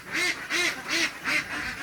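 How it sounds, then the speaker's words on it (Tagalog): Ducks at a new pool quack in four evenly spaced nasal calls, close and clear, with no talking. "mga duck, mga pato."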